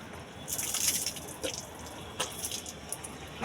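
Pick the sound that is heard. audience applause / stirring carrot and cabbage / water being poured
water being poured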